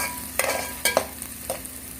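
Macaroni ingredients are sautéed in a pan before tomatoes go in, giving a steady low sizzle broken by a few sharp spoon-and-pan knocks, close and without talk.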